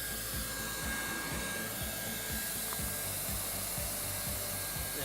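A hot air heat welder blows steadily while sealing seams, a continuous close whooshing hiss with faint regular ticking or rubbing underneath, running alone without talk throughout.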